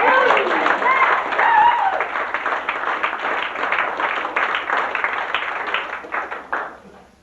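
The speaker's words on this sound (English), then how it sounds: "Give her a round of applause." Cruise ship audience applauding a passenger, steady dense clapping with cheering voices mixed in for about seven seconds before tapering off at the end.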